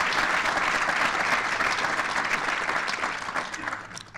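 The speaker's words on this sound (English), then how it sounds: "Please give them a round of applause." An audience at a School of Business welcome event claps in sustained, dense applause that fills the room and tapers slightly at the end.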